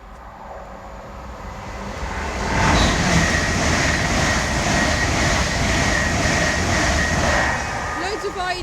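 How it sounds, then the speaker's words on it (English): A train pulls out of West Ealing on the Great Western Main Line towards Paddington, its rumble swelling and holding loud as it passes close by, then easing slightly toward the end. "And there's the train that goes to Paddington."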